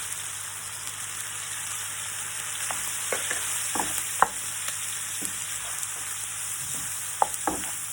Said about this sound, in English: I'm going to add back in my onions and bacon. And I'm going to just stir in some flour.